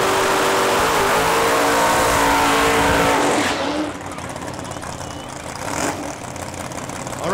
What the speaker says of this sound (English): All right, they've seen the burnouts.